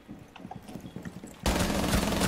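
Gunfire in Rainbow Six Siege, first a run of scattered distant shots, then a sudden loud, close burst of sustained rapid automatic fire.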